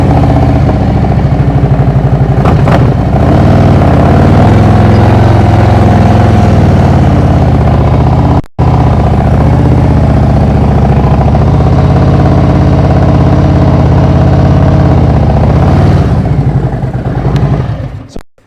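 A motorcycle engine idles close by on an inclined driveway with a loud, steady mechanical rumble and light clatter. It cuts out briefly midway and then resumes.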